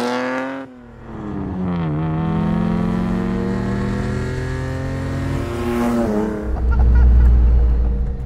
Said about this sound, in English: not as nice as that exhaust sounds